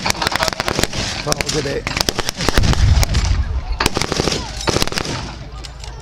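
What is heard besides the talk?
British artillery fire at a wartime reenactment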